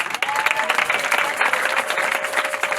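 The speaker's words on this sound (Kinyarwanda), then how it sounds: "muhe Imana amashyi." A church congregation breaks into sustained, dense applause during a night prayer service, a steady roar of many hands clapping close and loud with a faint murmur of crowd beneath.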